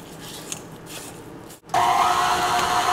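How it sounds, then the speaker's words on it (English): A stand mixer with a paddle attachment starts after a brief pause, then churns cupcake batter with dry ingredients at a slow speed. The motor gives a loud, steady whir up close, with no voices. "Now I'm gonna switch to my paddle attachment and I'm gonna add my dries. Mix this slowly just until it all comes together."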